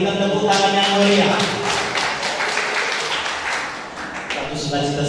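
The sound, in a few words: applause for the patron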